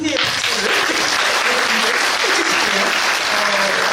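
Steady, dense applause from a seated audience at a panel discussion on disability residential facilities, continuous throughout with faint voices and tones beneath.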